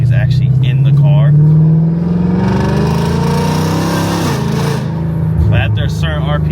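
Chevrolet Corvette C8 Z06 with a non-straight-pipe exhaust, loud close engine rumble that rises in pitch as it revs, briefly eases, then climbs again, with a voice talking intermittently over the engine.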